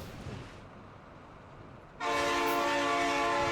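Train in Factorio Space Age, a quiet rumble that suddenly gives way to a loud, steady tonal horn-like hum at the end, heard alone without talk.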